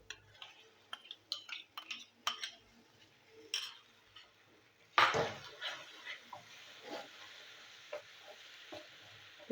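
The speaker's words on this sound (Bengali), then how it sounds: "টমেটো পেস্টটা আমি কষিয়ে নেবো।" Tomato paste frying with prawns in a pan, a soft steady sizzle under irregular scraping and stirring clicks from a utensil, with a louder stir knock midway.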